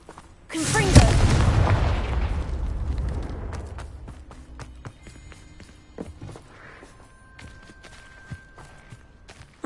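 A Confringo blasting spell explodes in the Hogwarts Legacy video game with a loud, booming burst that rolls off into a long rumbling decay, followed by quiet game ambience and faint ticks.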